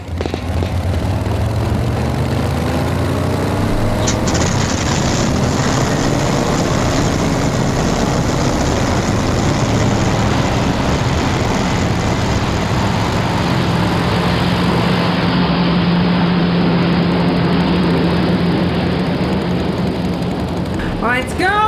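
Propeller airplane engine used as an audio drama sound effect: a loud, steady, droning roar with a dense rumble, continuous for the whole stretch and never easing.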